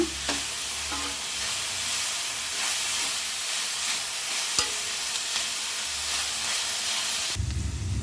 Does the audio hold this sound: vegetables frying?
yes